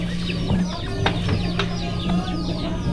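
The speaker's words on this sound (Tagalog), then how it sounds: "Alaga ng pato." Pet ducks clucking and quacking in a rural yard, a steady chorus of overlapping calls with a low constant hum beneath and no talk.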